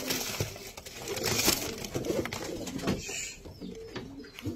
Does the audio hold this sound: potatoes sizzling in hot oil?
no